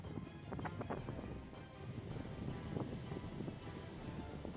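Rugged sea waves wash over a rocky shore scattered with driftwood, a low continuous surging roar mixed with wind buffeting the microphone, faint and steady.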